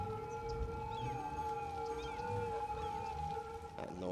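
Ambulance sirens in the city-building game Cities: Skylines, several steady wailing tones overlapping continuously at moderate volume, with no talk.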